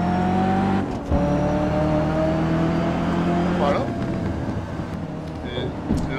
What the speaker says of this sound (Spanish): os digo que el coche ya no suena igual